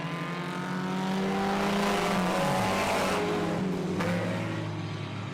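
Sprint cars roar around a dirt oval track in a continuous, loud engine drone, pitch sweeping up and down as the pack accelerates and passes, with no pause throughout.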